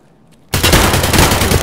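After a moment of quiet, loud pistol gunfire in the game Escape From Tarkov bursts out in a rapid, crackling volley that continues to the end.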